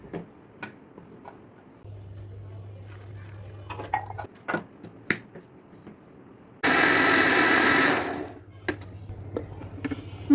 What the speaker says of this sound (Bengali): এবার ধুয়ে শুকিয়ে নেওয়া বোটা ফেলানো কাঁচামরিচগুলো ব্লেন্ডার পটে দিয়ে একটু পানি দিয়ে ভালো